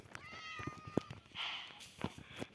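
A cat meowing in the Minecraft video game, a few short quiet meows with clicks and faint game effects in between.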